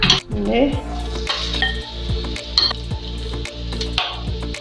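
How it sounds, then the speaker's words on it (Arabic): Chicken and onions fry in vegetable oil in a pan for a Tunisian chicken tajine. A steady sizzle runs throughout, with stirring strokes, utensil clinks and a low background hum. "الدجاج يتقلى، نخليه دقيقتين يتزبل مع البصل"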